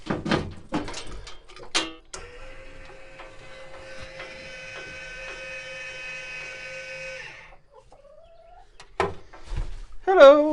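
An automatic chicken coop door opens on a DIY coop, its motor whirring steadily for about five seconds between brief bursts of voice and chicken sounds.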